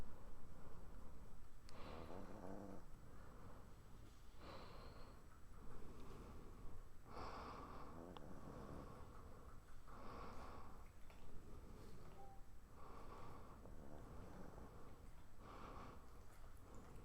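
Soft, steady snoring repeats about every two seconds, quiet and close, over a constant background hiss with no talking.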